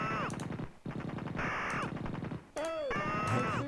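Gunfire in the Amiga shooter game Veteran comes as rapid, loud bursts of chiptune-style machine-gun shots in several volleys, broken by brief gaps and sharp pitched effects.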